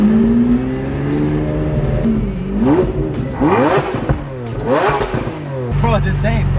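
Lamborghini Aventador engine while driving, a steady loud drone with rising and falling revs across the stretch, heard from inside the car beneath excited talk from the occupants.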